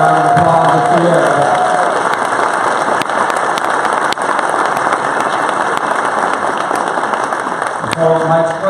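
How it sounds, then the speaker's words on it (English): An audience at a state GOP convention breaks into a round of applause, a loud, dense wash of many hands clapping with some crowd noise. A voice is briefly heard at the start and again near the end. "Can you give Ashley a round of applause this year?"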